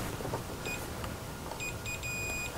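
High, thin beeps come from a Journey arcade monitor while its vertical hold is adjusted, short chirps at first and then longer sustained tones over a faint hiss.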